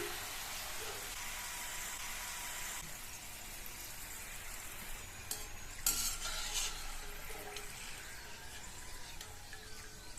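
Steady, dense sizzling of potato chips frying in hot oil, broadband and continuous, with occasional brief clinks of a utensil.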